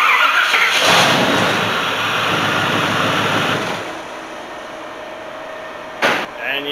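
A car engine at operating temperature cranks over and catches on a cheap mini high-torque starter motor from eBay, then settles into a loud running roar that quiets after a few seconds, with a brief knock near the end.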